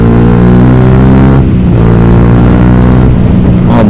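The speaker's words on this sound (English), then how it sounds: "Oh my god, this exhaust is so loud." A Yamaha YZF R125 125cc motorcycle with a loud aftermarket exhaust drones right at the mic while riding, a harsh constant engine note with brief dips and rises as the throttle shifts and the revs change.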